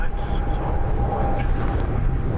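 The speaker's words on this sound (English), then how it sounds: "Emirates outbound, that's the noise you're hearing" Emirates airliner departing Dublin Airport on a windy day, a steady distant jet roar with broad low rumble and a faint whine, continuous throughout.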